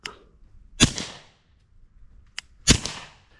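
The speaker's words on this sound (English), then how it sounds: "what you're hearing is the bullet traveling so fast that it breaks the sound barrier" Two sharp, loud cracks from a suppressed rifle firing supersonic rounds outdoors on a hog hunt, each followed by a brief decaying tail, with fainter clicks just before each shot.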